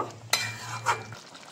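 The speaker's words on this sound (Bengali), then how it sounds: "একটু নেড়ে চেড়ে দেব।" Brief stir of jackfruit and shrimp curry in hot ghee in a pan, with a scrape and a soft sizzle lasting about a second before the sound drops away.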